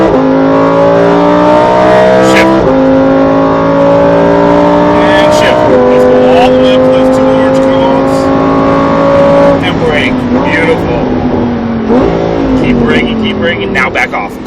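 A Lamborghini Performante accelerates hard on the Speed Vegas track, its loud engine climbing in pitch through several gear shifts, with an instructor talking over the roar.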